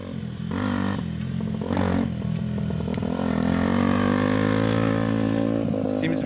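A used motorcycle engine with a restrictive muffler runs steadily nearby, holding a loud, even idle with slight mechanical clatter and no voices.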